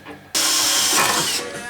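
A power drill bores a pilot hole for a turbo kit bolt on a Honda Civic, starting abruptly with a loud, steady whine for about a second before winding down.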